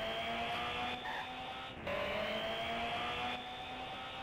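A turbo-fitted car engine in the Nintendo DS racing game Asphalt Urban GT 2 holds a steady high-pitched drone, with a brief dip and shift in pitch midway, like a gear change, and no talking over it.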